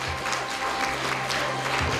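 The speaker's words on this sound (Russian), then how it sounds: "Ваши аплодисменты!" Steady applause from a concert audience at a Teachers' Day awards ceremony, a continuous even wash of clapping held at moderate level throughout.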